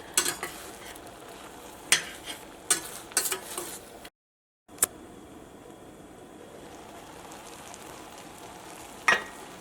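Gentle stirring of softening onions in a pan for chicken roast, over a soft sizzle, with a few sharp scraping clicks of a utensil at intervals.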